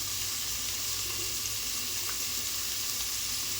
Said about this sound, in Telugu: ఆనియన్ మంచిగా ఫ్రై అయిన తర్వాత అల్లం అలాగే పసుపు వేసేసుకొని